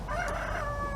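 A chicken gives a short, close crow-like call with clucking tones, a single brief burst standing alone without talk.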